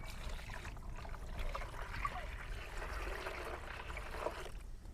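Water poured into a container for treating one kilogram of drumstick (moringa) seeds, a steady splashing and trickling wash that runs continuously at moderate level.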